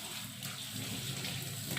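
Water runs steadily from a tap while brass fittings are washed. The rushing is faint and continuous, with no talking.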